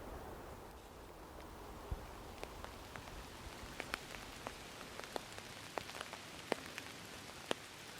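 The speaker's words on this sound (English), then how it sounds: "It's now a rainy day, walking through some different woods with my little umbrella. Get some ASMR rain sounds." Rain falls in the woods onto an umbrella, a soft steady patter with scattered louder individual drops ticking close by at irregular intervals, quiet overall.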